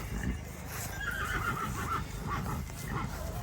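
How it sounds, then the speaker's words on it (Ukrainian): A pair of horses at a horse-pulling competition in a village whinnies amid crowd murmur and background talk, with a drawn-out neigh in the middle and a few hoof knocks beneath. "Така пара коней, там гарний конік."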